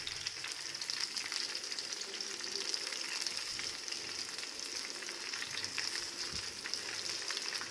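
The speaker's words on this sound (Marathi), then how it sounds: "तेलात सोडायची मस्तपैकी मंद गॅसवर सगळी बाजूने ही भाजून घ्यायची" Okra pods stuffed with spice masala fry in oil over a low gas flame, giving a steady, close hiss of sizzling with faint crackles throughout and no talking.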